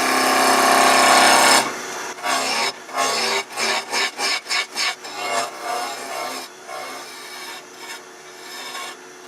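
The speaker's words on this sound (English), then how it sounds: "get a bunch of chips and scrape that wood" Turning tool scraping a spinning wooden workpiece on a lathe for a wheelie bug pull toy: a loud continuous rasp at first, then a run of short rhythmic scraping bursts and more irregular strokes, close and with no talking.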